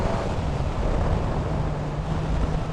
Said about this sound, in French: Et là, à 80, je me prends des petites bourrasques sympathiques.